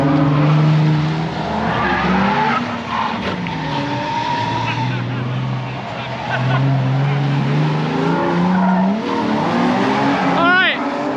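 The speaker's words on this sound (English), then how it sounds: "we're down to the track now, obviously. My buddy Max, never driven right-hand drive, and he's down there in my 370Z now" A right-hand-drive Nissan 370Z laps a race track, its engine droning loudly and continuously as it rises and falls through gear changes, with tires squealing and a sharp high chirp near the end.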